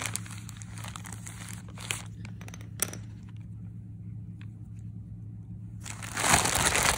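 Clay being cut from a plastic bag with a string for pinch pots: steady crinkling and rustling of the bag close by, a couple of soft snaps, then louder crumpling at the end, with no talk.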